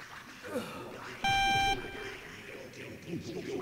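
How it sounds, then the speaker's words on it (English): A single sharp electronic beep from the stealth video game Metal Gear Solid sounds for about half a second, clear and loud over quiet game ambience with faint background sounds. "Did anyone else hear that weird beep, or was that just me?"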